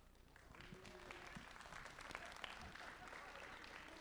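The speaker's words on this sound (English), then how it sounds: "So a round of applause would not be out of line right now." Audience applause at a Longhorn Roundup scrimmage event, a steady wash of clapping heard fairly faint and distant, with voices mixed in.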